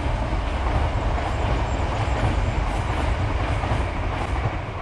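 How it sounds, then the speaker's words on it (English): A train rolls past close by, a loud, steady rumble with rail clatter filling the whole stretch without pause. "let's wait for the train"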